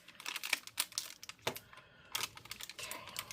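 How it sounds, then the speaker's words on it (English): Adhesive-backed part being slowly peeled away inside a 14-inch M1 MacBook Pro A2442 during disassembly, giving close, dry crackling ticks and small pops in irregular bursts. "I gotta carefully peel this away. Very slowly and carefully peel that away."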